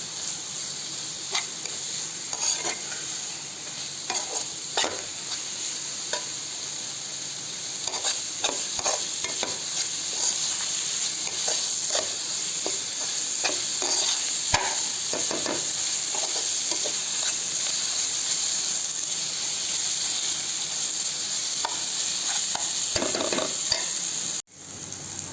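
Dried red chilies fry in hot oil for a fish curry, a steady close sizzle broken by irregular scrapes and clinks of a spoon stirring the pan, with no talk.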